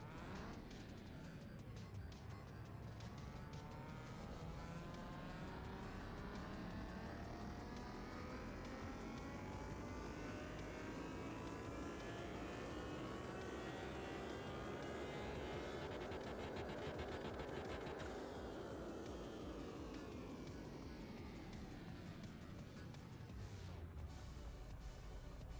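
A Nissan GT-R engine roars on a dyno, a loud continuous drone sweeping up in pitch for most of the run, then easing off near the end.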